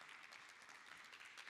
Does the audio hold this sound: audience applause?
yes